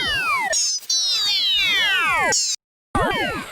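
Ring-modulated audio from Cubase's Transformer plugin run through its presets, producing loud metallic, warbling tones with sweeping pitch curves that cut out briefly near the end before resuming.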